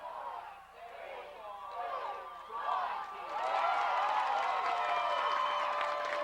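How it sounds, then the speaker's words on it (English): A home-field high school playoff football crowd counts down the end of the game, the collective chanting and cheering swelling louder and fuller over several seconds and then holding at a roar. "you hear the crowd counting them down"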